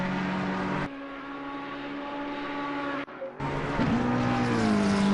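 McLaren number 7 race car on the Monza circuit finishing its qualifying outlap, a loud sustained engine drone with steady harmonic whine, a brief dip near the three-second mark, then pitch shifting as it changes gear.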